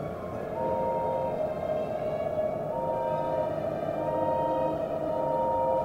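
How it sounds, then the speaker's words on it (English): A distant whistle holds steady tones over a constant low rumble, like a train far down the line; no voices. "A whistle could be heard in the distance."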